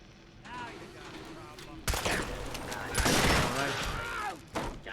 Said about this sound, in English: Shot in the face.